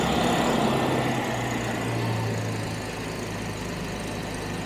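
A Jaguar XJ12 engine idles cold with a slight misfire on each cylinder, a steady close rumbling hum with a faintly uneven pulse and no talking.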